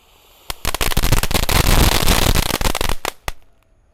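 A cone fountain firework lit at night during Ramadan festivities sprays a dense, continuous crackling burst for about three seconds, peppered with sharp pops, close and loud, then cuts off abruptly.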